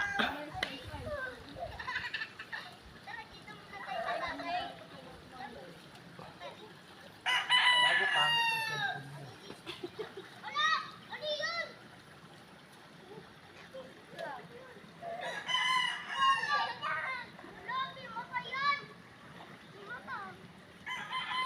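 Chickens clucking and a rooster crowing repeatedly in a rural yard, with crows rising in bursts over busy background sounds, mixed with people and children talking nearby.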